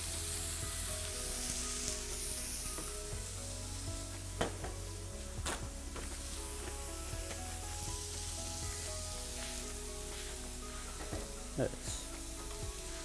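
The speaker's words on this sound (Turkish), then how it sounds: "Buna mühürleme yapıyoruz." Meat searing in a hot pan in its own juices without oil, a continuous loud sizzle with occasional scraping and stirring clicks throughout.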